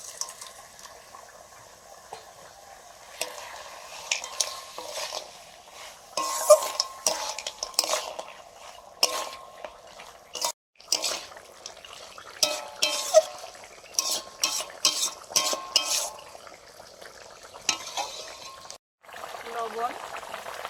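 Lentil dumplings (bori) fry in a pan with ripe cucumber, a soft sizzle under repeated scraping stirs and clinks of a utensil against metal, close up, with talk now and then.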